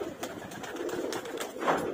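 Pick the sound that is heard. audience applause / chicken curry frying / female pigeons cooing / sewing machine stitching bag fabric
female pigeons cooing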